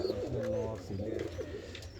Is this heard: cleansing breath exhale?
no